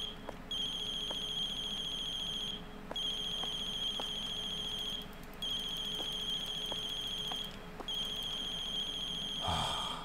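A telephone rings in the horror game The Closing Shift, four repeated electronic trill bursts with short gaps between them, clear and steady over a low hum, alone without talk.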